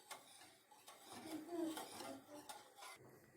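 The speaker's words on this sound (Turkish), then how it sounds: "bu şekilde sürekli karıştırarak kaynayana kadar pişirmeye devam ediyorum" A spoon stirs yayla soup in a cooking pot, giving soft, close scraping and clinking against the metal that repeats at a slow, uneven pace, with no talking.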